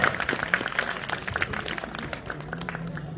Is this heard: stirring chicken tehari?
no